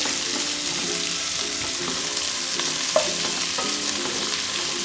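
Onions frying and being stirred in a pan for Indonesian tofu cooked with tauco, a steady sizzle broken by scraping and clacking stirs, close and continuous with no talk.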